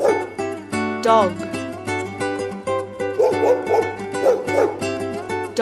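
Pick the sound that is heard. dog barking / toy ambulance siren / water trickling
dog barking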